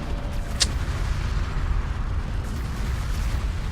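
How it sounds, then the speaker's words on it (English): In the Homeworld: Deserts of Kharak game, artillery strikes an armored vehicle: one sharp, loud impact bursts out early, followed by a dense, rumbling low roar of battle that carries on steadily. "Armored vehicle is taking fire."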